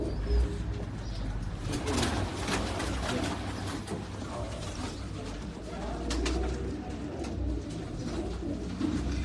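Striped and striped-cross pigeons coo in low, throaty murmurs against a steady rumbling background, with occasional faint chirps and soft flutters mixed in.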